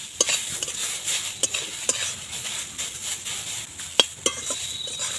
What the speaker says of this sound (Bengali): নাড়তে নাড়তে পেঁপেটা সেদ্ধ হয়ে যাবে